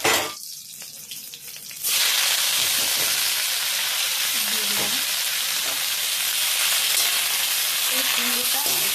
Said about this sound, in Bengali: এইবার আমি এই তেলের মধ্যে সম্বার দেবো